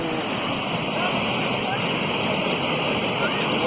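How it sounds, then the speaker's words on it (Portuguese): The Afrazana waterfall in Presidente Figueiredo, Amazonas, pours in a loud, constant roaring wash of falling water, steady throughout with no break. "Waterfall"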